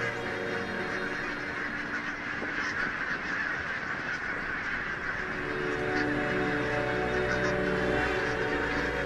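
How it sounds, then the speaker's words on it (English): A large flock of geese honking over Hebrides mudflats, a dense, continuous chorus of overlapping calls at a distance, steady and fairly loud throughout. "With so many geese in the air,"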